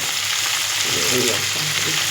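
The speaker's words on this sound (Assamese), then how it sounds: "মাছখিনি এতিয়া ফ্ৰাই কৰিছোঁ।" Small fish frying in a pan, giving a steady, close oil sizzle with a soft crackle that swells slightly toward the middle.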